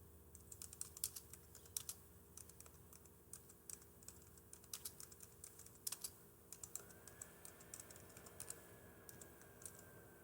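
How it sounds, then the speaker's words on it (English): Quiet, steady typing on a computer keyboard: a continuous patter of light key clicks with occasional sharper taps, close but soft, and a faint sustained tone entering partway through. "I stare at the keyboard when I type"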